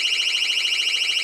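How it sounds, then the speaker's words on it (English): A store burglar alarm blares loud and close in a rapid, warbling electronic tone that pulses evenly without pause. "Is that a burglar alarm?"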